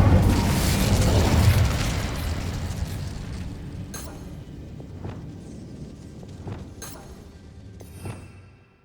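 An Incendio fire spell is cast in Hogwarts Legacy inside a closed mine, bursting out as a loud whooshing boom that slowly fades, followed by a few faint clicks and scattered small impacts.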